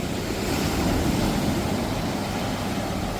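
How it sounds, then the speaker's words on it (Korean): Seawater rushes out with the ebbing tide in a steady, broad wash that runs unbroken and fairly loud throughout, with no voices over it. "바다 물내려 가는 소이 너무 시원하죠?"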